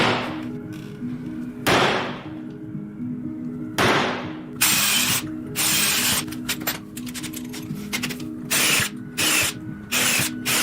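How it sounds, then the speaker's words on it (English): A power drill bores holes through steel tubing bars, its motor whining up in several bursts, with short gaps between runs and loud, harsh grinding as the bit cuts the metal. "Then used a punch to mark them and drilled them through."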